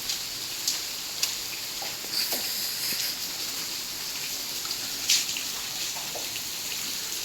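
Rain pours down in a continuous wash, with scattered louder splashes and drips landing close by; no one speaks.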